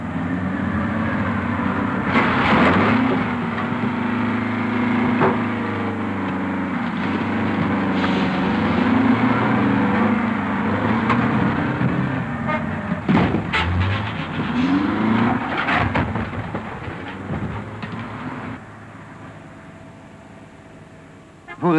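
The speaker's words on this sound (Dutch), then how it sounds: "Machtige Mack trucks werden aangeschaft om de materialen naar de kranen te transporteren." Mack trucks haul building materials along the Scheveningen breakwater, a loud heavy engine rumble with gear and motor whine that rises and falls over several seconds, with a voice narrating over it.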